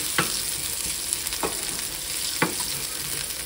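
Chorizo and meat mixture with ground cumin sizzles steadily in a pan on lowered heat for a rice chili, with three distinct stirring scrapes cutting through the constant crackle.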